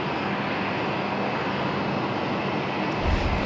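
At Sydney Airport, an aircraft cleared for takeoff from runway 34 left gives off a steady, broad engine roar at moderate distance, continuous and unbroken, with no voices over it.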